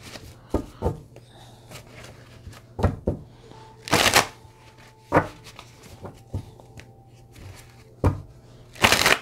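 Twin flame tarot cards shuffled by hand in a run of sharp riffling bursts, several crisp rustles and snaps spaced unevenly, close and fairly loud over a faint low hum.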